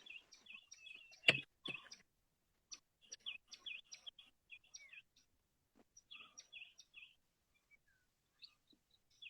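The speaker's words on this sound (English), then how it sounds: "We can also hear the birds in your background." Birds chirp and tweet in quick bursts of short high calls, fairly faint and steady in the background behind an online call, with one sharp thump near the start and brief gaps between phrases.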